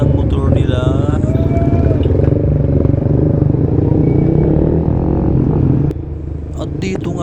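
A group of motorcycles on a ride rumbles loudly and steadily close by, a thick droning roar with occasional revving and voices mixed in.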